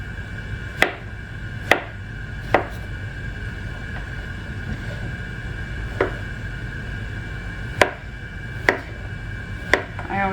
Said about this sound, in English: I always think that chopping vegetables is therapeutic.